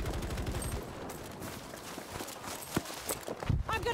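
Rapid gunfire in the World War II shooter game Battlefield V, dense bursts of shots with sharper cracks toward the end, over a busy battlefield din.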